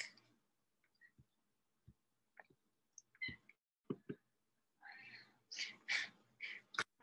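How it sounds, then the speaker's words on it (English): A cat meows several times near the microphone during a quiet evening of live readings, its short tonal calls growing louder and more frequent toward the end, with soft clicks and taps between them. "My cat wants to come read with me."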